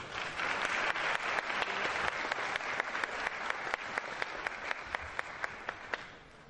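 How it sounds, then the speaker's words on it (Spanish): A plenary meeting audience applauds to welcome a speaker: a steady wash of clapping with sharp rhythmic beats that slowly fades near the end. "a cargo de don Natalio Botana, a quien recibimos con un fuerte aplauso."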